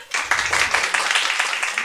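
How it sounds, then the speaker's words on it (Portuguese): Audience claps for Júnior at a literary soirée, a short, lively burst of applause with quick overlapping claps at close range. "Aplausos para o Júnior."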